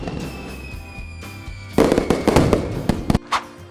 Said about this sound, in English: Now that's fireworks.